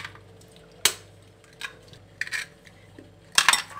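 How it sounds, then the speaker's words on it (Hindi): Eggs are cracked against a bowl holding milk and sugar, sharp taps and clicks at irregular intervals with soft wet sounds between them, close and fairly quiet. "अब हम इसमें तोड़ेंगे 4 अंडे।"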